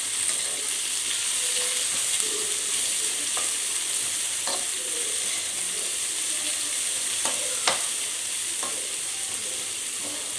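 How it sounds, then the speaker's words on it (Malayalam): Sliced onions fry in hot oil for lemon rice, giving a steady, moderately loud sizzle broken by occasional spatula taps and scrapes as they are stirred. "അതിലേക്ക് സവാള ഇട്ട് കൊടുക്കുക. സവാളയും പറഞ്ഞതുപോലെ നല്ലവണ്ണം മൂക്കണം."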